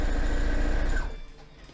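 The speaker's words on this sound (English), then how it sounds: "your sewing machine makes the bed vibrate, or the floor vibrate" A sewing machine runs with a steady, loud mechanical whir and hum at close range for about a second, then winds down and stops, leaving a faint low rumble.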